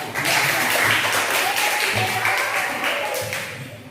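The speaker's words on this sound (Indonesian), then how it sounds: "Jadi tepuk tangan dulu untuk kelompok 1." A class of students and teachers applauds a student group after a speech in a school classroom, a brief burst of clapping that rises quickly, holds, and tapers off, with faint voices mixed in.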